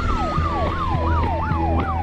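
An ambulance siren wails in rapid repeating rising-and-falling sweeps, loud and close over a low engine rumble, with a second steady tone sliding slowly downward as it passes.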